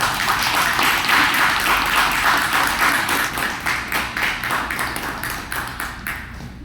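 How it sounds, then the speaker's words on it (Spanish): Audience applause at an academic philosophy conference session, a steady wash of many hands clapping that thins into scattered separate claps toward the end. "Un aplauso."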